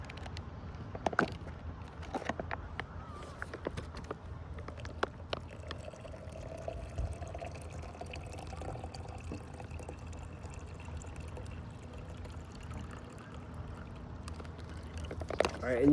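Water is poured into a pouch of backpacking food, a soft, steady trickling and splashing that runs quietly for the whole stretch with scattered small clicks and rustles of handling.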